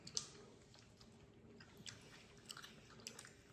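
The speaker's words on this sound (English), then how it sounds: "So let me finish chewing this." Someone chews a bite of smoked ribeye steak, with quiet, close, moist chewing and a few sharper crunchy bites scattered through a low room hush.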